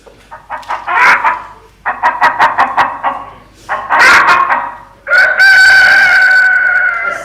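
A man imitates a rooster crowing, with a run of loud, rhythmic clucking bursts followed by a long, drawn-out cock-a-doodle-doo call, close and forceful.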